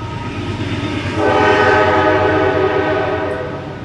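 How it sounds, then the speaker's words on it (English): A train passes close by, its rumble and rolling wagon noise swelling to a loud, steady roar that holds, then slowly eases, with no voices. "And here comes a train."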